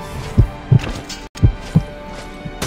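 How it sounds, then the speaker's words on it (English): A low-health heartbeat in the VR game Elden Ring thumps in paired beats, deep and heavy, repeating at a steady pace with no talking. "I hear my heartbeat. Means I'm probably low on health."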